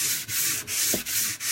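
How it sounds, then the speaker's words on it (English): Painted furniture being sanded by hand with basic sandpaper, heard as a close, steady gritty rubbing in about five back-and-forth strokes with short breaks between them. "this is just basic sandpaper, and it just takes off that paint a lot easier for you"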